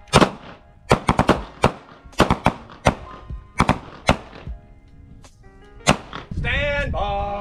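Pistol shots ring out on a shooting range in quick bursts of three sharp cracks, repeated across several strings with brief pauses, loud and close, ending in a sustained tone.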